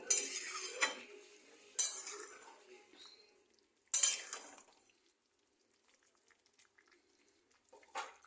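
Cauliflower cooked in curd being stirred in a pan, a few distinct scraping clatters of a spoon against metal separated by quiet pauses, close and fairly soft.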